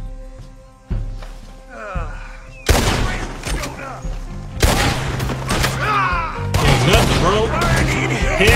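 Gunfire in the video game Red Dead Redemption: several sharp, loud shots ring out about every two seconds, each with a booming echo tail, while someone speaks briefly.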